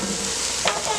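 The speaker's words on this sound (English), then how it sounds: "I'm stirring them around" Chili beans are stirred around in a hot pan, a brief close sizzle with a short scrape of the utensil partway through, no speech.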